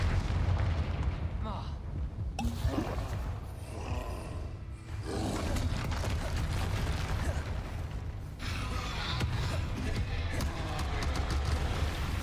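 Confringo spell explosions in a wizard video game boom and roar in heavy rumbling bursts over a continuous din, with a voice speaking over the action.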